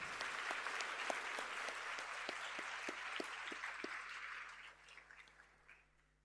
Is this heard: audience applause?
yes